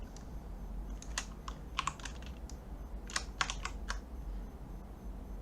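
Computer keyboard keys pressed during 3D modeling work, including the Shift key, come as two close clusters of light clicking taps over a low steady room hum.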